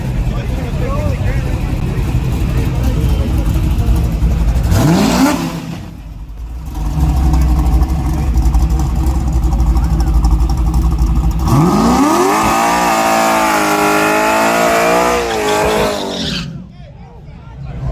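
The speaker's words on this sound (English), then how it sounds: "Do a burnout." Street drag race car with small-block engines doing a burnout: the engine roars and revs hard with squealing tires, drops briefly, then screams again with rising pitch, loud and close over crowd voices.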